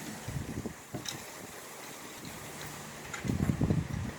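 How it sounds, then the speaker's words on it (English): Steady wind buffeting the microphone outdoors beside a telescope, a low rumbling roar with gusty bursts that swell near the start and again toward the end. "sorry it's very windy out today"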